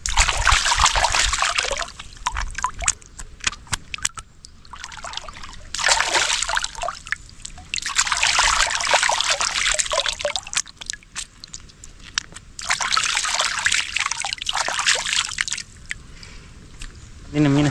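Water splashes and trickles in repeated bursts while fish caught with a line are rinsed by hand, with quieter pauses between rinses and a voice speaking at times.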